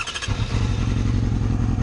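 A fuel-injected motorcycle with an aftermarket exhaust cranks, catches after a short starter burst and settles into a loud, close, uneven idle that runs rough.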